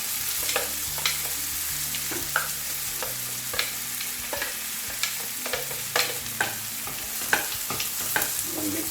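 Homemade paste being stirred into pasta sauce frying over medium heat in a pan: a steady sizzle broken by a series of sharp spoon scrapes and clicks roughly every second, close up, with no voices.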